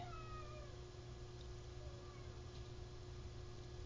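Faint, drawn-out meowing from a cat at a door in the distance over a steady low hum, a few thin cries early on.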